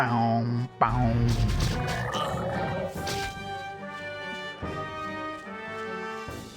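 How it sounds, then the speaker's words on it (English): A giant frog boss croaks in the PlayStation game TechnoMage: Return of Eternity, deep resonant croaks mixed with game music and crashing effects, loud and continuous. "It's a boss. It's a giant frog."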